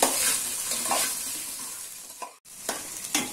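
Okra (ladies finger) pieces frying in oil in a pan, a steady broadband sizzle with a few stirring scrapes and knocks near the end, close and fairly loud, no voices.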